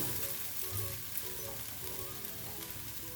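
String parotta (nool parotta) batter sizzles steadily in a hot pan, a continuous, even frying hiss with faint crackles, close and moderately quiet, with no talk.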